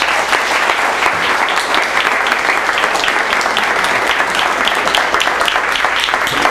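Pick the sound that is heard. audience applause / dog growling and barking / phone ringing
audience applause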